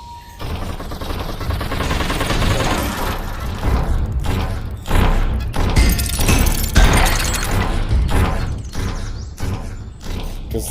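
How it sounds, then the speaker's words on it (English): Towers in the VRChat game Super Tower Defense fire together in a dense, continuous barrage of rapid synthetic gunshots and impacts, loud and sustained throughout with a few heavier bursts. "now, they're all shooting in unison"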